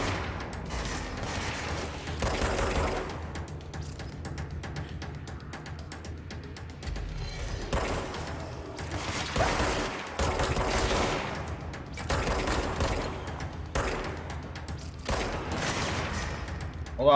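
Gunfire in the action game Control, long dense bursts of rapid automatic shots that keep coming with brief gaps, loud and close throughout.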